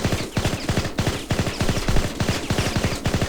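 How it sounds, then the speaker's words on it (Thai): An M4A1 rifle in InZone Online fires rapid bursts, dense rattling volleys of sharp shots repeating in quick rhythmic groups, loud and close with no talking. "ทดสอบปืน M4A1 นะฮะ ยิงรัวกันเลย"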